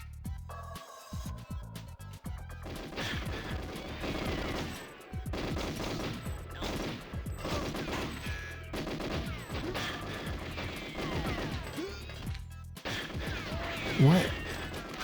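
Rapid gunfire crackles through a GoldenEye 007 level on the N64, repeated sharp shots and bursts in clusters with crashing impacts, while a voice talks over parts of it.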